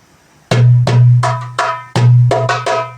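Darbuka playing the Baldi rhythm: deep resonant dom strokes alternating with sharp, bright tek slaps in a short repeating pattern, close and loud, starting after a brief quiet moment.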